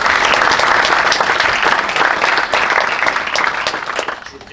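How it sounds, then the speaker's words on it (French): Loud, dense audience applause at a European marine academies conference on the blue economy, continuous clapping that slowly thins toward the end. "je pense qu'on peut vous applaudir pour tout le travail que vous faites pour la cause maritime"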